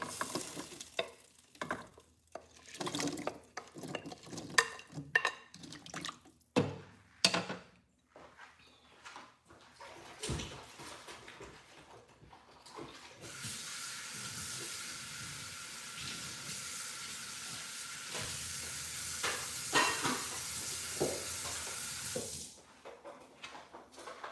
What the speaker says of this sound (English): So I'm gonna put the potatoes in now.